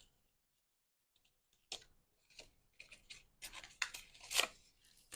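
Scissors snip through die-cut paper scraps, a series of crisp close cuts and rustles that build up after a quiet start, with louder snips near the end.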